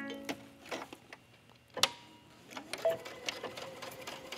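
A sewing machine stitching a curved seam across fabric of a top's neckline, quiet, close bursts of rapid mechanical clatter separated by brief pauses.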